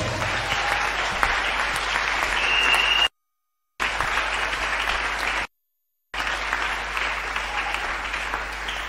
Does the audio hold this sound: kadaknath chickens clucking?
no